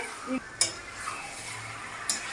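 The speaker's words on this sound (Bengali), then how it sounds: "আমি এবার এটাকে ভালো করে এইভাবে কষিয়ে নিচ্ছি।" Chicken sizzles in a hot pan while being stirred and sautéed, a low steady frying hiss broken by a few sharp clinks of a spoon against the pan.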